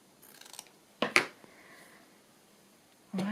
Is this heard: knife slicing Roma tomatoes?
no